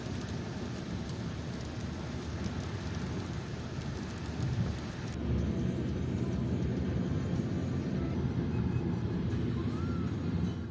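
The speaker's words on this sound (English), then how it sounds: "It's a bit rainy today again." Steady rain falls at Rhodes Airport in Greece, a continuous broadband hiss that holds throughout and grows slightly louder and fuller about halfway through, with no voices.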